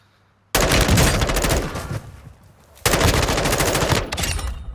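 Automatic gunfire in Call of Duty Warzone II comes as two long, loud, rapid bursts separated by a short lull, then a quieter trailing volley. The shots are close and dense.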